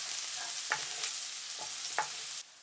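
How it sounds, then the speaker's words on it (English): Chopped garlic stir-frying in hot vegetable oil over high heat in a wok-style pan, a steady close sizzle with a few scraping stirs, cutting off near the end. "When it's hot, add the remaining chopped garlic. Regularly stir."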